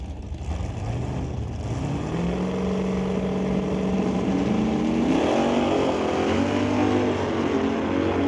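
Drag race cars, a Chevy and a Coronet, at an NHRA Summit ET Series event in Mission roar down the track, engines revving and rising in pitch as they accelerate, loud and close with no talk.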